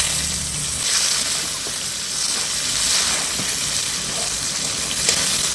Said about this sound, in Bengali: এবার জিরে, শুকনো লঙ্কা, তেজপাতা ফোড়ন দিয়ে দিচ্ছি।